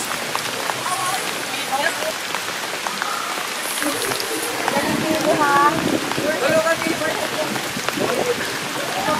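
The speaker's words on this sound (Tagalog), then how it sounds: "Biglang umulan kasi, lumakas ang ulan, lumakas." Heavy rain pours down in a loud, constant roar and spatter over a city boulevard night street food market, while voices talk intermittently beneath it.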